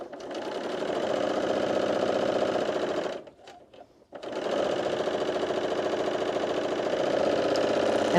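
A sewing machine stitching a shoulder seam on a garment, a loud close rapid mechanical chatter running steadily, pausing briefly for about a second partway, then resuming at the same even pace.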